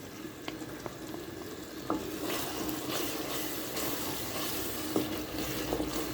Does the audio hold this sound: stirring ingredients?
yes